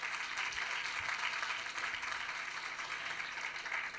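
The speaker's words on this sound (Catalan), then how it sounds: "Un aplaudiment per tots els finalistes." Audience at a student awards ceremony applauding the finalists, a steady, even patter of many hands clapping for a few seconds at moderate distance.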